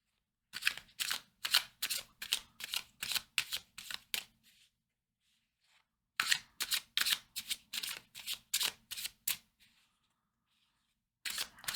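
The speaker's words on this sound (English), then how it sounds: "let's pull a couple tarot cards on the Pioneer archetype" Tarot cards being shuffled by hand, close and crisp, in two runs of rapid riffling bursts separated by a few seconds of silence, with a third burst starting at the end.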